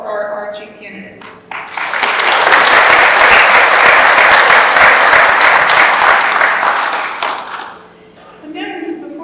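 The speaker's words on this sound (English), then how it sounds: "And so we have just one more round of applause for our chief candidates." An audience at a tribal nation candidate forum applauds, with dense, steady clapping that swells for about six seconds and then fades, while a speaker talks briefly before and after.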